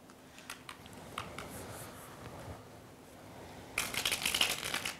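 Playing cards are dealt during a card game, making light scattered flicks and snaps close by, then a denser burst of crisp card slaps near the end, with otherwise quiet surroundings.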